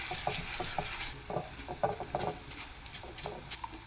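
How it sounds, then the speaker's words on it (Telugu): Dry mustard, cumin and coriander seeds stirred in a hot pan while roasting for a spicy curry leaves podi, giving a steady scratchy rustle with repeated soft scraping strokes, close and fairly quiet. "ఒకసారి తిప్పుకొని కలుపుకోవాలి"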